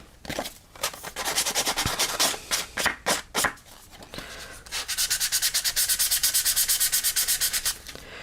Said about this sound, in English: And I'm going to roughen those edges up, make it look more vintage.